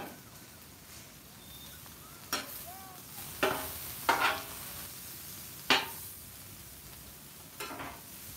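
Beef and broccoli sizzle on a Blackstone flat top griddle, a steady low hiss broken by several sharp scraping and clanking spatula strokes spaced a second or two apart.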